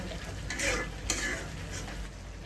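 Chicken being sautéed as kosha in a pan until it turns reddish, with a low continuous sizzle. A few soft spatula scrapes and stirs sit close over it, one sharper tick midway, and no one speaks.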